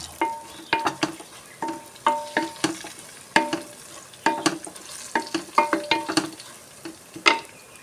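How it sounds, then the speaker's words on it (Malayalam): Spices and green chillies being stirred in a hot pan for a quick biryani, with repeated scraping strokes of a spoon over a steady sizzle, close and moderately loud with no talking. "കുറച്ച് മുളക് പൊടി കുറച്ച് മല്ലിപ്പൊടി രണ്ട് പച്ചമുളക് നന്നായി ഇളക്കി കൊടുക്കും"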